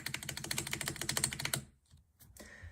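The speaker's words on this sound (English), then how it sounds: "A tutorial for your custom mechanical keyboard." Fast, steady clatter of keystrokes on a custom mechanical keyboard, close and crisp, stopping after about a second and a half, followed by a few isolated taps.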